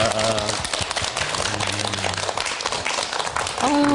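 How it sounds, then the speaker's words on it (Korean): A studio audience applauds at the end of a televised lecture on hair loss and hair transplants, a dense, steady burst of many hands clapping close by, with a voice speaking over it at the start and end. "큰 박수 부탁드립니다"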